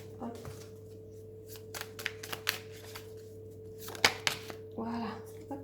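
A deck of cards being cut and shuffled by hand during a tarot-style card reading, with quiet intermittent riffles and taps under a low background hum, up close.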